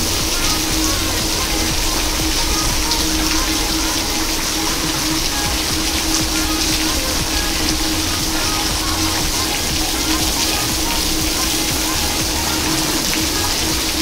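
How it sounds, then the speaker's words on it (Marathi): Steady, heavy rush of water throughout, like a downpour drenching a road, dense and constant with no pauses. "खूप जोरात पाऊस चालू आहे, रोडावरती पण खूप पाऊस चालू आहे"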